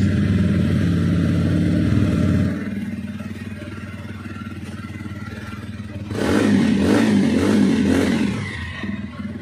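A 2024 TVS Ronin 225 motorcycle engine idles with a steady, close exhaust rumble, drops slightly, then is revved to a louder, throatier roar before easing off.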